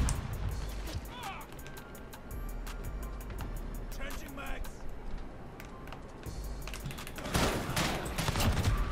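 Rapid in-game gunfire from a Call of Duty Modern Warfare beta match rattles in bursts amid computer keyboard clatter and game sounds, a louder volley near the end, with a player's voice talking in places.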